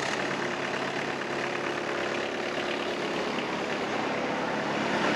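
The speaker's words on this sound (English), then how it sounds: "So we're going to start the machine up." A Harper ATM72LC slope mower's engine running at a steady idle, a continuous close mechanical drone with a faint knocking texture and no pauses.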